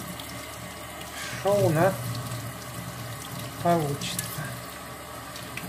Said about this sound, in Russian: Дальше берем все это и смываем горячей водой.